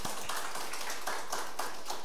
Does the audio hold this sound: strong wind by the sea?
no